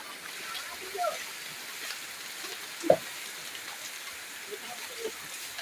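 Heavy rain pours steadily outdoors where a shop front is being swept, a dense even hiss with a couple of louder splats and faint voices underneath.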